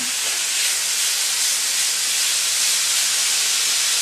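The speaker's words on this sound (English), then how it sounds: "So all that steam cooled my pan down." Steam hisses loudly and steadily from beef and vegetables cooking in a hot cast iron pan, a continuous bright rushing sound with no voices.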